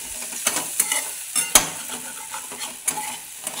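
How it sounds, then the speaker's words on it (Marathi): A spatula stirs green tomato chutney in a pan, giving soft scraping and gentle sizzling with a few sharper clicks against the metal, steady and close. "परत असं 1 मिनिटासाठी हलवायचं"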